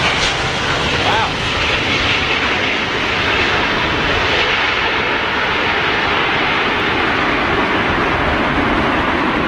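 An Icelandair Boeing 757 arriving at London Heathrow in stormy weather gives a broad, continuous jet roar that stays loud and steady throughout, blended with wind noise.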